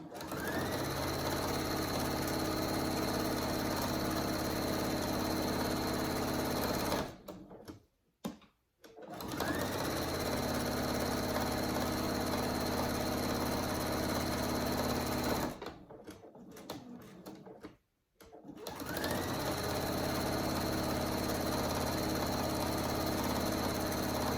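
A sewing machine stitches hammock straps into a hanging animal hammock, running loud and steady in three long bursts separated by two brief pauses, its motor droning evenly.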